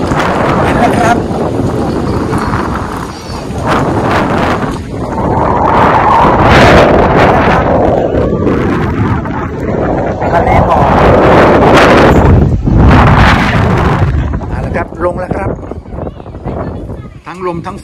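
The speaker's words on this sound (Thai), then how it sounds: "ลมทั้งฝนเลยครับ" Strong wind buffets the microphone at a mountain viewpoint above a sea of mist as rain blows in, a loud, continuous roaring gust noise that swells and eases, with someone talking over it.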